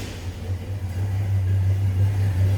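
A 1972 Chevrolet C10 Cheyenne pickup truck engine idling right after starting, a close, steady low rumble with a slight rise in intensity.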